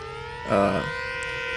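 A 3D printed siren mounted on a model aircraft swells into a brief wailing tone as the plane climbs into a hammerhead, over a steady motor hum.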